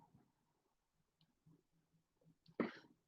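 A single short sneeze near the end, preceded by quiet breathing and small mouth sounds in a hushed room.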